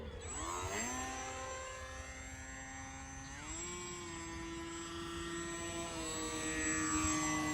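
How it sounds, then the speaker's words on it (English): A HobbyZone AeroScout 1.1m RC plane flies without its canopy, its electric motor and propeller giving a steady whine that rises and falls in pitch as the throttle changes, heard from a moderate distance outdoors with no talking. "I think it flies really good without canopy."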